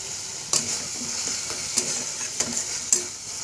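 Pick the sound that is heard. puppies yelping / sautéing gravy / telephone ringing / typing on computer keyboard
sautéing gravy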